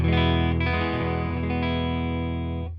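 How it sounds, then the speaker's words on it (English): A bright, clean Fender Stratocaster chord through a Fender Deluxe Reverb tube amp rings out with sustained harmonics, struck again midway and left to decay slightly, with light amp reverb. "I'm playing my Strat through my deluxe reverb, which sounds fairly bright, sounds like this"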